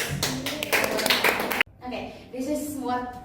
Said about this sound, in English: Let's applause.